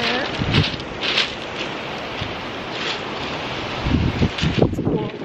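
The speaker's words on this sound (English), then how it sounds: "my hair looks crazy because it's super windy out" Strong gusting wind buffets the microphone with loud roaring rumbles on a black sand beach on the Oregon coast, while surf washes faintly in the background.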